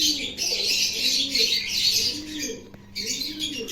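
Pigeons coo in soft repeated low rolling calls close by, with a bright chirping and twittering bird chorus running throughout and a brief pause near the end.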